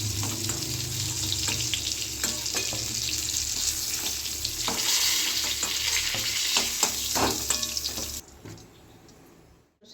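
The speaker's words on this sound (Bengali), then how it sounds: "আমার পটলগুলো ভাজা হয়ে গেছে লাল লাল করে।" Pointed gourd (potol) fries in oil with a continuous close sizzle and occasional utensil clatter, then the sizzle cuts out abruptly, leaving near quiet.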